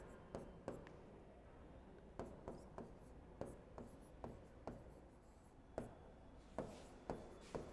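A pen or chalk writes out an equation, making a sequence of short, crisp taps and scratches at a steady uneven pace, close and fairly quiet, with no speech.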